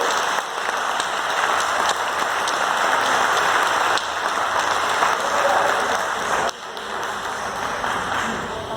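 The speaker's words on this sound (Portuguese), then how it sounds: "Aplauda bem forte o Senhor." A church congregation applauds loudly and continuously, a thick steady wash of clapping that dips briefly partway and drops to a softer level near the end, with no clear voice over it.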